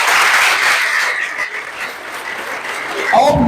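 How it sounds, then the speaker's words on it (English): Audience applause at a Drug Free Delta anti-drug campaign gathering at a palace, a dense steady wash of clapping lasting throughout, with voices mixed in and a louder burst near the end. "Clap for her, please."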